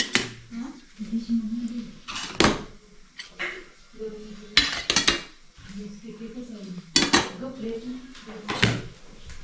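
Spoons and dishes clink and clatter in sharp bursts as plates are set out for a veg thali order of paneer and potato fry, with people talking between the knocks.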